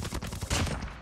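Gunfire in the mobile battle royale game Call of Duty Mobile, a burst of rapid shots running through the whole second, fairly loud and dense with no talk over it.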